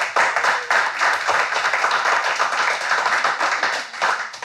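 A live podcast audience claps steadily for several seconds, a dense, lively patter of many hands at moderate volume with no voices over it.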